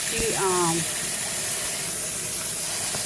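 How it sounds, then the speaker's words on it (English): Running water rinses fresh tomatoes in a continuous, close, hissing spray that stays steady from start to finish, with a brief voice-like tone heard early on. "about to rinse these off. Get a good rinsing."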